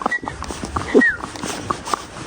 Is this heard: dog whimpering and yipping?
yes